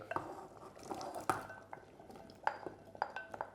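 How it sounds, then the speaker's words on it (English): Carrots and potatoes go into a pot of Vietnamese beef stew (bo kho), with quiet clinks and knocks of utensils against the pot, a few sharper taps spaced irregularly, faint and close, with no talk. "you can add your carrot and your potato"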